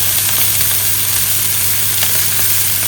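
A steak sears in an oiled pan, a loud, close, unbroken sizzle and hiss that holds steady from start to end with no talk.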